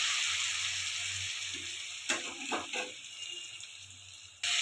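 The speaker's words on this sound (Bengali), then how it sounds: "দেখুন নাড়াচাড়া করছি" Chopped tomato fries for a tilapia curry, a steady hiss of sizzling oil with a few soft scrapes of a spatula stirring through the pan and a brief clank at the end.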